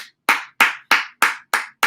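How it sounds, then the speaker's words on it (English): Six sharp, evenly spaced hand claps ring out loud and close at the opening of a fitness Q&A session, each one a crisp, separate slap with no talk over them. "let's give a round of applause, everybody."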